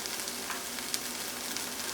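Fresh minced garlic sizzling with onions in a pan, cooking for a vegan lentil stew: a steady, fairly soft hiss of frying with a few faint stirring clicks, no voices.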